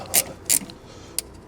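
A ratchet spanner works on a shock absorber nut on an LTI TX4 London black cab, producing two quick clicking bursts of the pawl, then a single sharp click after a pause.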